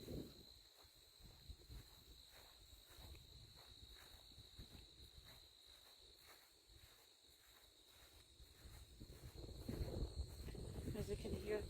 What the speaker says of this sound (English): You can hear these crickets.